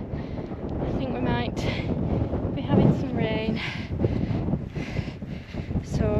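Strong wind on a fell near the summit buffets the microphone in a steady low roar with gusts, while a person talks over it in short bursts.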